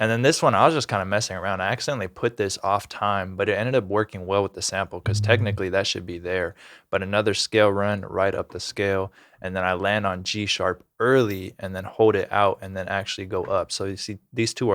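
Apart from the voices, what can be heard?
No distinct noise like a dog, phone or traffic.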